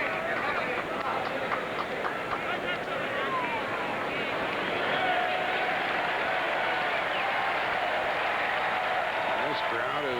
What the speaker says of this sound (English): This crowd is revved up and they are having fun.